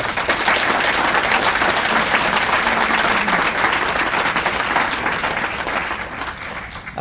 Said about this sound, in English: please thank them with a round of applause